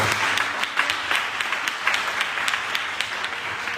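A church congregation claps steadily in applause, a dense, sustained patter of many hands filling the room for a few seconds with no voices standing out.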